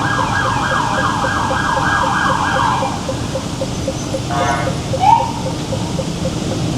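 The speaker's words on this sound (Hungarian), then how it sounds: "És most jön a mentő, ha jól hallom és látom" An ambulance siren wails on a Bangkok street, its rising and falling tone loud at first then cutting off, with road traffic noise and a short horn-like blip afterward.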